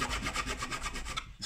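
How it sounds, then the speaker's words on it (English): A hand file rasps rhythmically across a drilled aluminium part to deburr the hole, with quick, even back-and-forth strokes, close and steady, the last stroke trailing off. "file the front, make sure it's all nice and smooth"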